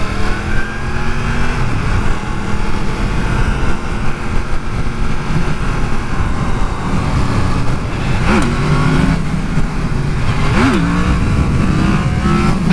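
A Yamaha FZ-series motorcycle revs hard while popping a wheelie on a highway off-ramp, its engine droning loudly and steadily, with pitch sweeps suggesting gear changes and throttle blips near the end.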